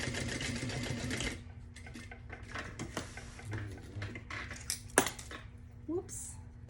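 A sewing machine bastes a convertible tote bag, its fast mechanical stitching running steadily for about a second before breaking into short intermittent bursts with clicks and handling noises nearby.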